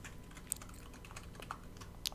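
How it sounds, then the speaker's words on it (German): Someone types on a computer keyboard during a German let's play of a driving game, producing quiet scattered clicks and a few sharper key taps over a steady low background hum. "wenn man meine Tastatur so laut hört"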